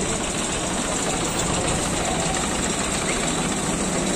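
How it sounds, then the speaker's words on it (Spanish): A tractor's heavy engine rumbles steadily and loudly as it passes along a city street in Morón, a close, constant low drone. "Dejen que pase el tractor."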